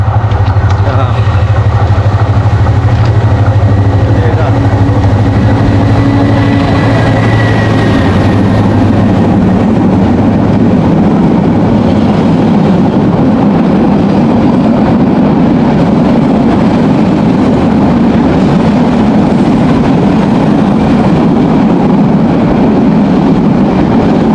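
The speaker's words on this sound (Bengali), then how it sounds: "ওই যে আমাদের পিছনে আসতেছে রেলগাড়ি আর আজকের দিনে এটা প্রথম ট্রেন যেটা আমাদেরকে ক্রস করতেছে" A passenger train running along a railway line near a walking path between Feni Junction and Baraiyarhat, a long heavy rumble and engine drone building and sustained throughout, loud and close.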